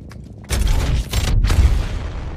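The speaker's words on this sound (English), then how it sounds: "The cannons are usable again." Cannon fire in a video game used for the Nix'Cannon movement tech: two heavy, booming blasts about half a second apart, loud and close, each followed by a rumbling tail.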